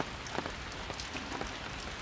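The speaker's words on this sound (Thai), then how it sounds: "ฝนก็ยังลง ต่อเนื่องนะครับ" Rain falls steadily on a goat farm in Loei province, Thailand, a dense hiss with scattered patters of drops on nearby surfaces.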